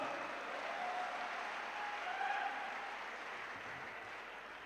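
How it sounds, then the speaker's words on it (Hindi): Audience applause fills a poetry gathering (kavi sammelan) in Bahal, a steady wash of clapping that holds for several seconds and fades only slightly, with no voices over it. "एक बार जोरदार तालियां बजाओ।"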